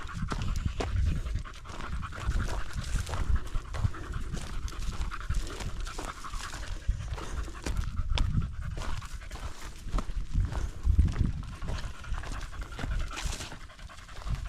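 A dog pants hard and rhythmically at close range during a mountain hike in the Pyrenees, quick breathy gasps continuing steadily throughout with soft outdoor movement noise.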